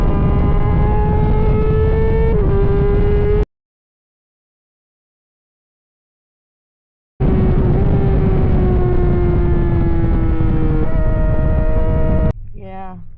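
A 2006 Suzuki GSX-R 600 race motorcycle is ridden on track. Its engine drones loudly and close, with a droning whine that rises and falls through gear changes, broken by a stretch of total silence before the engine returns.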